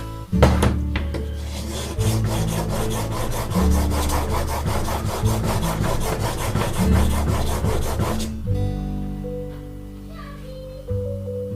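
A plane blade (iron) rubbed back and forth on a sharpening stone: close, rhythmic gritty rasping strokes for about eight seconds, then they stop and a low hum remains.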